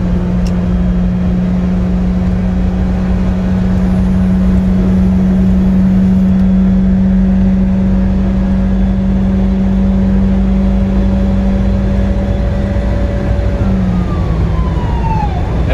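A supercharged 1990 Subaru Sambar Dias II AWD kei van accelerates hard in a drag race, its engine droning loud and steady with a rising whine that climbs slowly through the gears.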